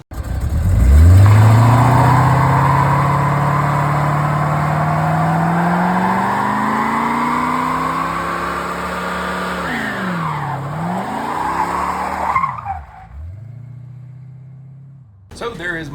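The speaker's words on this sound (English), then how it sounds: "you get to see a burnout video" A 1984 Chevrolet Corvette doing a burnout: the engine revs up hard and holds a loud, rising roar with squealing tires, then dips and swoops through more revs before dropping to idle, with voices faintly audible.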